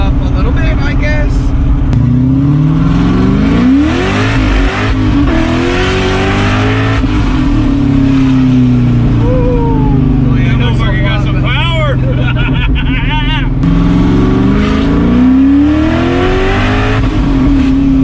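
A Corvette engine revs and roars close by, pitch sweeping up and down repeatedly, with crowd chatter and voices mixed underneath.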